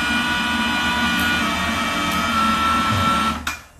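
An electric stair lift for carrying loads up stairs runs with a steady, continuous motor hum at moderate loudness, then winds down near the end with a brief clunk.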